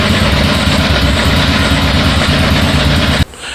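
Dafra Zig 50 motorcycle fitted with a Honda Biz engine idling close up, a loud, steady low-pitched putter that cuts off abruptly near the end.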